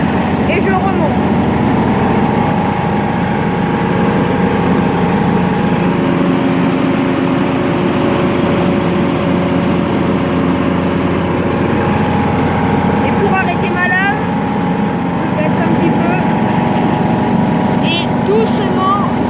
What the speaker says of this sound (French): J'enclenche mes lames.